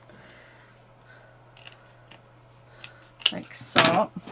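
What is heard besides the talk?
cutting paper bits for card making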